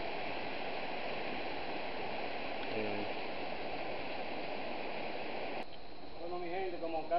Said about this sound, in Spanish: Si pueden escuchar el sonido del agua